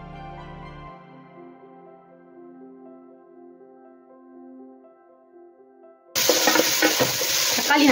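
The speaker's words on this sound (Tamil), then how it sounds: "தக்காளி நல்லா வந்து மசிஞ்சு வரட்டும், அந்த அளவுக்கு வரைக்கும் நம்ம வதக்கிக்கலாம்." Tomatoes for mushroom biryani hit a hot pan and sauté with a loud, steady sizzle and stirring. The sizzle bursts in during the last two seconds, after a quieter stretch of sustained tonal notes.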